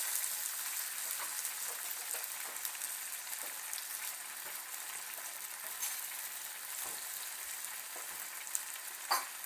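Special fried rice sizzles steadily in a frying pan while being stirred and mixed, with soft scrapes and clicks of the utensil scattered through a constant, fairly quiet frying hiss; no talking.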